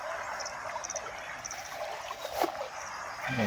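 A large stream flows with a steady, hissing, trickling wash of water, moderately loud outdoors, with small splashy accents throughout.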